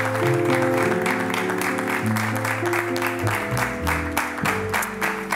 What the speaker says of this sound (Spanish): quiero recibir con un fuerte aplauso a Rafael Marco Agudo